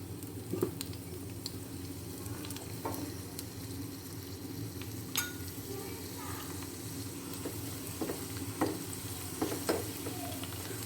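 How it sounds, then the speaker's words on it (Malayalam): Shallots frying in hot coconut oil in a pan, giving a steady, moderately quiet sizzle with occasional stirring clicks and scrapes throughout. "വെളിച്ചെണ്ണ ഒഴിച്ച് ചൂടായപ്പോൾ അതിലേക്ക് കുറച്ച് ചുവന്നുള്ളി ഇട്ട് കൊടുക്കാം"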